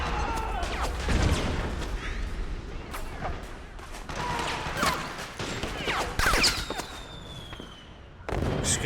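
Rapid gunfire cracks and pops in Metal Gear Solid 4 burst irregularly, some close and sharp, others distant, forming a chaotic volley throughout.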